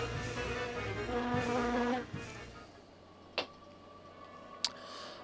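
Bees buzzing in the video game Castlevania: Symphony of the Night, a tonal buzzing drone over game music for about two seconds, followed by quieter ambience with two brief sharp effects.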